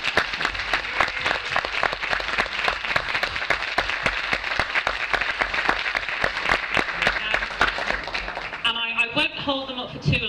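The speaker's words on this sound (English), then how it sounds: "I'd like to give them all a big clap once more." An audience at a school Christmas performance claps steadily in loud, sustained applause that keeps going throughout, then tapers near the end as other sounds come in.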